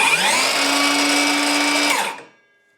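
RIDGID Gen5X brushless 7-1/4-inch circular saw running free with a high whirring motor whine, held steady for about two seconds, then released so the tone drops and spins down to silence.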